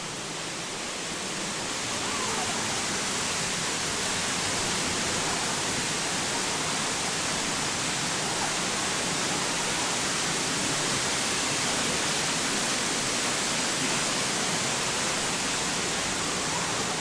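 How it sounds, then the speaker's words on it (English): A waterfall at the Africa Rocks exhibit of the San Diego Zoo, a steady, dense broadband rush of falling water that holds constant and fills the whole stretch with no voices. "Kind of hard to hear, but they do have a waterfall."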